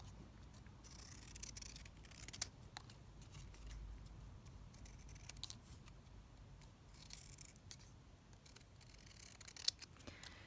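Scissors snipping through paper for an art journal page, a steady run of quiet, close crisp cuts spread over several seconds with no talking.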